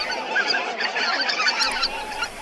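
Geese wintering in Miyagi rice fields in Japan give a close, busy run of overlapping nasal honks, several calls layered together with no pause.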